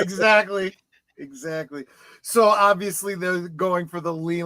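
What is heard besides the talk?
None of the usual background noises is heard.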